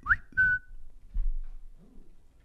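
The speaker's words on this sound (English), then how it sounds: "you can whistle" A person whistles a couple of short, clear notes, close by, followed by faint low murmuring.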